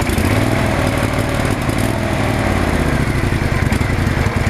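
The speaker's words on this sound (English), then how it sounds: "So, I'm going to celebrate it with the cold start of my lawnmower here" A cold lawnmower engine runs on choke and throttle, a loud, steady, buzzing small-engine drone held close and unbroken throughout.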